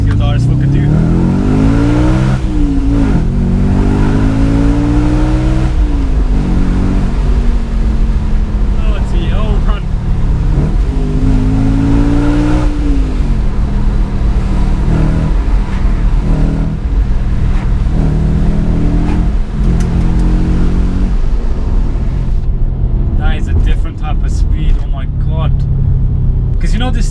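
Audi RS4 B7 V8 revving hard under acceleration toward 8,000 rpm, a loud, close engine wail rising in pitch through repeated sweeps and gear changes, sustained throughout the ride.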